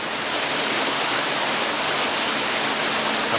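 Grey Mare's Tail waterfall in Galloway pours in a steady, dense roar of rushing water, broad and continuous without pause and with no voices over it.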